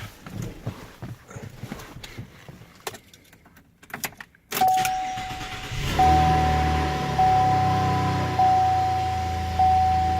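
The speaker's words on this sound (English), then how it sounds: "listen to that V6 growl" A 2016 Chevrolet Colorado V6 engine cranks and catches after some rattling handling noises, then settles into a loud, steady low idle with a sustained whine.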